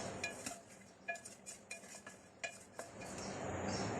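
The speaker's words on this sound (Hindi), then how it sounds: "इसको अच्छी तरह से मिक्स कर लेते हैं" A spoon scrapes and clinks against a bowl while chopped onion and tomato are stirred into chana chaat with potato, in several short irregular taps over a soft background hiss.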